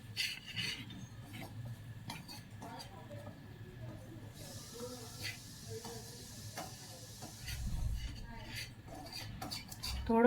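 A utensil scrapes and rubs through boiled pasta with flour in a pan, giving soft, irregular scratchy stirring strokes close by, with a faint voice now and then.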